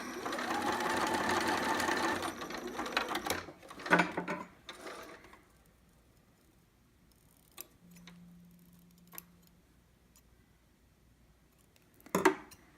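Sewing machine zigzag stitching back and forth on a sitter pattern piece, a close mechanical whirr in short bursts, followed by scattered clicks and handling sounds in a quieter stretch.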